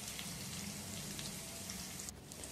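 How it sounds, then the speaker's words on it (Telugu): Ginger garlic paste fries with onions in a pan, giving a faint, steady, close sizzle throughout with a brief stir near the end. "1/2 స్పూను అల్లం వెల్లుల్లి పేస్టు వేసి పచ్చివాసన పోయేదాకా బాగా ఫ్రై చేసుకోవాలి"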